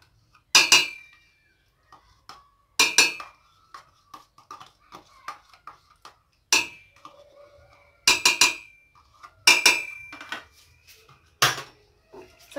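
A utensil stirs yogurt into milk in a metal pot, giving sharp clinking scrapes in irregular bursts with quiet gaps between them, close and alone.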